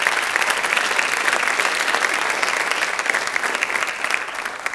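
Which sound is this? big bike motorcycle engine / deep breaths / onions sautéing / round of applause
round of applause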